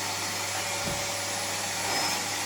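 A vacuum cleaner running over carpets during house cleaning, a steady loud motor whine and rushing airflow that holds constant throughout with no talk.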